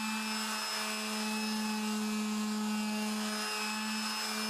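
A vibrating (orbital) sander runs steadily on a surface in a workshop, giving a continuous, close, loud electric whine with a strong steady hum and no pauses or talk.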